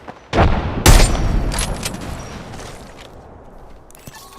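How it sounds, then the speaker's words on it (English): A frag grenade blast in Call of Duty: Modern Warfare II, a sharp near boom followed by a second heavy burst and a debris-filled rumble trailing off, with faint scattered gunfire. "Frag grenade set."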